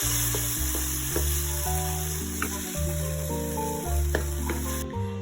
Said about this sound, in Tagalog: ang purpose na gigisahin natin itong sardines para naman mawala itong lansa ng amoy ng sardinas